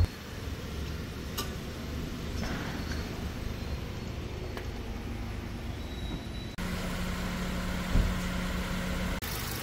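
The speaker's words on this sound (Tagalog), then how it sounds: "Ito guys yung engine ng ating Toyota Avanza 2019. Napakaganda, napakatining. Kung maririnig nyo guys, nag-automatic pa yung kanyang radiator fan." A 2019 Toyota Avanza engine idles smoothly with its radiator fan running, a steady close hum with light ticking and a slight shift in tone partway through.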